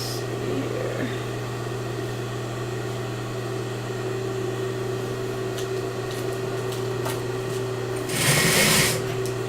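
A sewing machine runs steadily while stitching seams near the fabric edge, a close, continuous whirring hum with a brief louder burst of clatter near the end.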